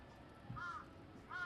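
Crows caw twice, faint and spaced apart, over a dark, low background rumble, with a muffled voice-like murmur underneath.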